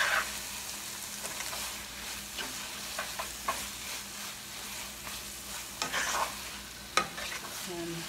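An onion and sugar mixture for seeni sambol is stirred in a pan, with a soft, steady sizzle under repeated scraping strokes and occasional sharper clinks. The sound stays fairly quiet and close.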